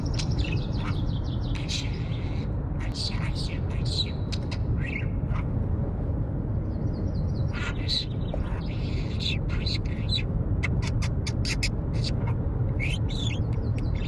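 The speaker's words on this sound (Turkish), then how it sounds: "kaç tane kuş Ayşe diyecek." A pet bird, a budgerigar-type talker, chirps and squawks in short bursts through the clip, with a steady low background hum and people murmuring nearby; its calls repeat irregularly, close and fairly clear.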